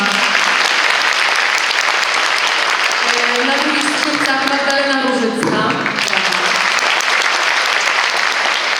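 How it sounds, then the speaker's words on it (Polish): Audience at a carol and pastoral-song concert applauding loudly and steadily while a presenter speaks over the clapping, announcing performers. "świetnie brawa"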